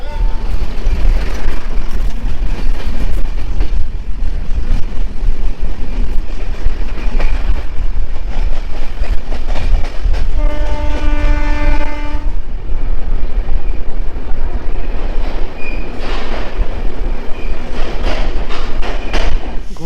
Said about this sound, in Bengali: রামপুরহাট জংশনের এক নম্বর প্ল্যাটফর্মে আমাদের ট্রেন এসে দাঁড়ালো